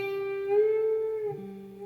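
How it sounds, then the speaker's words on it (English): A guitar string is bent up to a higher pitch and then released back down, heard as one sustained, fairly quiet note that rises and later drops back to its starting pitch. "You do get bends that have the note come back down again. That's called a bend and release."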